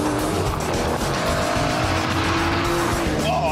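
An Aston Martin DBS V12 slides on track under power, its engine roaring loudly and continuously while the tires squeal in drawn-out, rising tones.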